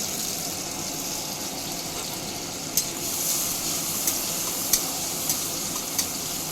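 Onions fry in a pan with a soft, steady sizzle throughout, quiet and close, marked by a few faint clicks and ticks from stirring in the second half, no talking.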